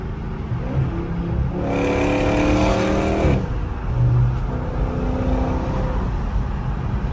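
A Dodge Scat Pack's exhaust rumbles loudly and close, swelling into a hard rev for a couple of seconds before settling back to a deep, steady idle drone.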